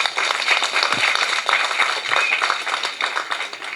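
A birthday and book launch audience claps steadily, many hands in a dense, continuous patter close by, with a faint murmur underneath.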